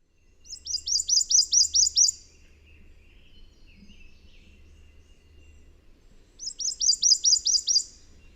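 Prothonotary warbler singing on the upper Texas coast: two bursts of bright, rapidly repeated sweet notes, about seven each, ringing out clearly with a long quiet gap between them.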